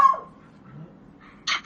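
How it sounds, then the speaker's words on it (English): A dog lets out a high whine at first, then goes quiet before a short, sharp bark close by near the end, with no talking. "my dog's about to go berserk"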